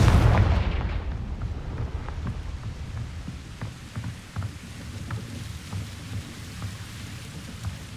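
A fiery Confringo spell blast in Hogwarts Legacy bursts with a heavy booming impact at the start, then fades into a crackling, rumbling tail with scattered small pops.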